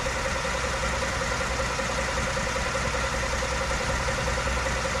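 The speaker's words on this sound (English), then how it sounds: "started the engine up, put it in reverse, put it in drive, put it back in park" A 2016 Ford F-150 with the 2.7-liter engine idles steadily, a constant mid-low drone with a faint tonal hum, close and unchanging, with no speech.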